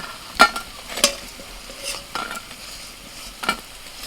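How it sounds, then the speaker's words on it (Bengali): Leafy greens fritters with chopped onion frying in hot oil, a soft steady sizzle under several sharp scrapes and clinks of a utensil against the pan; no talking. "একটু লাল লাল করে ভেজে তুলে নিচ্ছি"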